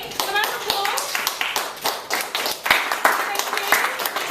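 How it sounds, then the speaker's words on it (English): A small group gives sparse, uneven hand claps after a production pitch feedback session, with individual sharp claps standing out and voices mixed in. "A round of applause."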